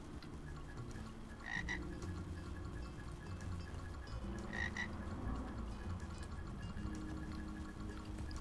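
Frogs croaking in a video game, a dense chorus of low, throaty croaks layered continuously with occasional brighter chirps and a faint watery trickle beneath.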